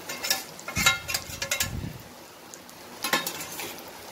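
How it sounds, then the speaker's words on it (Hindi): Urad dal paste fries in a pan with red chili, coriander and turmeric powder, giving soft sizzling and stirring scrapes with a few clinks of a spoon against the pan, faint and close. "अब इसको अच्छे से मसाले में मिक्स करके थोड़ा और भून लेते हैं"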